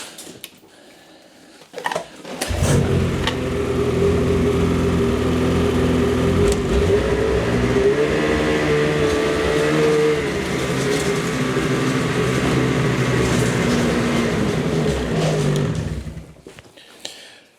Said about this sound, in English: let's fire up the sled. We're gonna get it off the trailer.